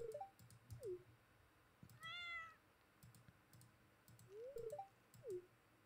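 Cartoonish cat meows from the farming game Stardew Valley, several short rising-falling calls spaced across the stretch, with a soft keyboard clicking rhythm underneath and a brief twinkly chime in the middle.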